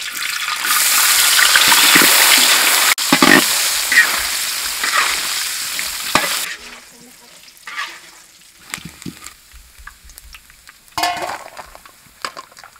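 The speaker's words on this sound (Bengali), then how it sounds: "নারকেলটাও ভেজে নেব" Peanuts and coconut fry in a pan, starting with a loud, dense sizzling hiss that drops away after several seconds, followed by quieter scraping, stirring and scattered clatter of the pan.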